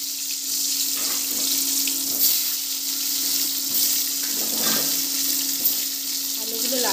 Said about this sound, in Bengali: এবার আলুগুলো ভেজে নেব।